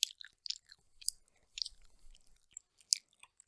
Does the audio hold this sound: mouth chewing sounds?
yes